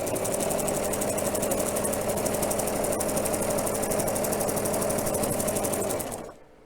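A sewing machine stitches through thick layers of fleece at a steady fast pace, its presser foot rattling in a continuous close buzz until it stops abruptly near the end.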